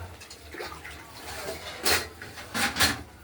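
Broth is poured into a pan of fish curry with potato and tomato, giving a few short bursts of splashing liquid with quiet pauses between them.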